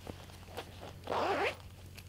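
A zipper on the side pocket of a fabric beach bag is pulled open in one short, quiet rasp close by, with a few soft handling rustles around it.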